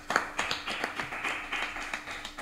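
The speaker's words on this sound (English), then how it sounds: "Let's give Frank a round of applause." A small audience at a broadcast show applauds with sparse, fairly regular claps, somewhat distant and moderately soft over a quiet room.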